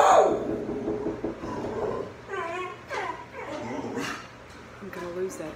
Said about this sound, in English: Sorry if you have to listen to my dog bark